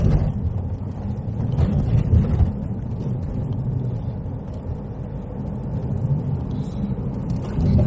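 Car driving along narrow country lanes with blind bends between Wittersham and Appledore at about 40 mph, heard from inside as a steady loud low engine and road rumble with wind noise throughout, no one talking.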